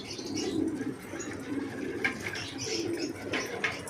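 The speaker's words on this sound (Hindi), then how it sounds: "ये सारे कबूतर नहा रहे हैं, आप देख सकते हैं।" Pigeons coo softly in low repeated bursts while bathing together, close by, with faint splashing and light background noise.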